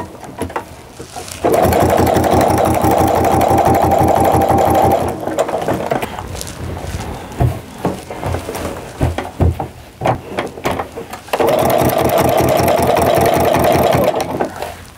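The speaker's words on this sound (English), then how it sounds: "I really can only sew a few stitches at a time before I need to turn the work." A sewing machine stitches bias binding onto a jelly roll Christmas tree skirt in two steady, slow runs, with a pause between them filled with faint handling and shuffling noises.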